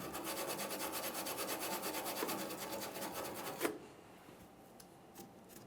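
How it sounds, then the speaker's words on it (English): A wire brush scrubs the tailgate hinge area of a 1999-2006 Chevrolet Silverado 1500 with rapid, rhythmic rasping strokes up close for about three and a half seconds, then stops, leaving faint scraping and handling noises. "Just use our wire brush on this."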